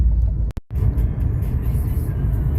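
A car creeps slowly along a snowy road, its low engine rumble and tire noise steady and close throughout, broken by a brief dropout near the start.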